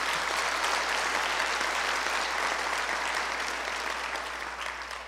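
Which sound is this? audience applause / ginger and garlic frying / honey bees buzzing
audience applause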